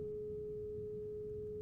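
A steady, unwavering single-oscillator tone from a Behringer Model D analog synthesizer with the other two oscillators switched off, held at a constant pitch with a faint hiss of white noise beneath and no voice.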